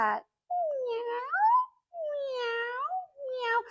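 A person imitates a cat's meow with voice, giving three drawn-out, rising mewing calls in quick succession, close and clear, at a children's library story time.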